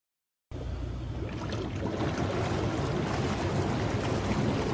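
Water churns and bubbles steadily in a hot tub at night, a dense continuous rushing wash that starts abruptly after a moment of silence and holds at an even, fairly loud level throughout.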